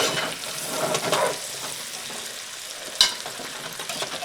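Dublin coddle being stirred in an oiled pot, a soft wet sizzle and shuffle of ingredients moving, with one sharp clink of the utensil against the pot partway through.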